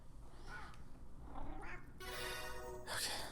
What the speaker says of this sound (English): Felix, you can't meow during my video